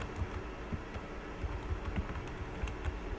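Steady typing on a computer keyboard while writing PHP code, with fast, close-up key clicks over a low background hum.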